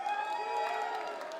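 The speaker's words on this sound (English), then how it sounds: "Huge cheers, honestly, every time." A large arena crowd at the Six Invitational 2025 Rainbow Six Siege esports finals keeps up a sustained roar of cheering voices at steady volume for the whole moment.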